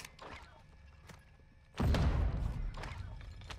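Frag grenade going off in Warzone 2: after a quiet stretch with a few soft thuds, a sudden loud, booming blast hits and rumbles on, then slowly decays.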